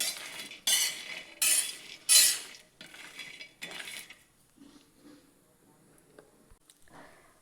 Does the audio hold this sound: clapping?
no